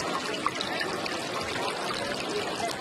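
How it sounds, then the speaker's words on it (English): Handmade water fountains trickle steadily at an outdoor art fair, a continuous close wash of splashing water with no voices over it. "Calming sounds there of some water fountains, to say the least."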